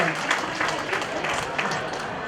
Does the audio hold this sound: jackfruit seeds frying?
no